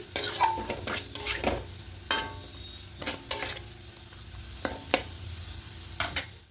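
Chicken sautéing in a pan without oil, with repeated scraping stirs of a spatula against the metal and a light sizzle between strokes, close by and irregular, with no talking.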